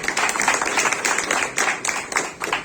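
Audience applause at a Devgiri Bank branch opening and 40th anniversary celebration, a dense steady patter of many hands clapping together for the whole stretch, loud and close with no pauses.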